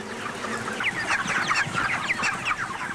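Chickens raised in a two-building farm shed cluck in a busy flock, overlapping calls and short squawks filling the space at close range with no talk.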